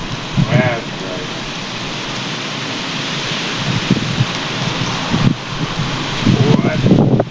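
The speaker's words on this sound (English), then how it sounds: "Wind. Had to pick up just right then." Wind gusting outdoors at a campsite where a fire is being started, a broad steady roar buffeting close by with rustling and a few handling noises over it.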